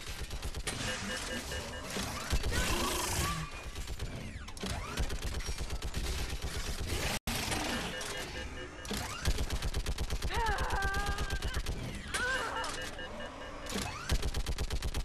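Sustained automatic gunfire fills a Mass Effect 3 battle on Thessia, dense and continuous, with metallic clatter mixed in and shouted voices heard over the shooting.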